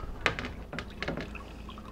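Water poured from a small container into flour dough in a deli kitchen, a few short splashing pours and drips in quick bursts, close and moderately loud.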